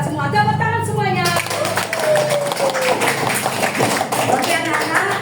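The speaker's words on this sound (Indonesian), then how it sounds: "Tepuk tangan semuanya." A class of children claps hands together in a steady burst of scattered claps and taps under music, with voices and a rising whistle-like tone mixed in.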